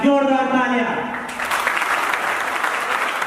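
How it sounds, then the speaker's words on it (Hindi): Audience applause at a pre-launch event, rising after a voice fades out in the first second, then a sustained, fairly loud roll of many people clapping together. "चलिए एक बार जोरदार तालियां।"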